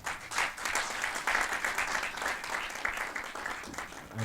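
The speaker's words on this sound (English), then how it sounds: "She needs a greater hand clap." An indoor church-session audience claps for a speaker, a dense, continuous burst of hand clapping that stays steady and fairly loud throughout.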